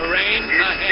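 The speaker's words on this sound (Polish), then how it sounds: "urządzenie TAWS ostrzega po raz drugi" A brief cockpit TAWS terrain warning sounds as a tinny, synthetic voice alert, band-limited like it comes over a radio channel.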